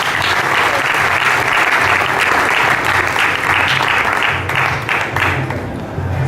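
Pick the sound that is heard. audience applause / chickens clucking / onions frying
audience applause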